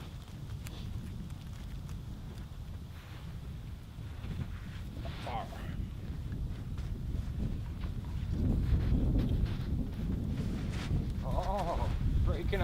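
Gusting wind buffets the microphone with low rumbling noise throughout, a voice speaking intermittently over it.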